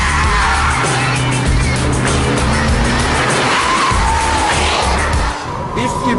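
A Porsche Cayman S driven hard, its engine roaring loud and close while the tires squeal and skid through corners, with a brief dip near the end.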